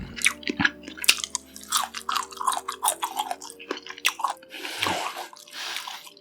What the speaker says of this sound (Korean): 아니 이게 피클이 조그마니까 훨씬 맛있는 것 같아요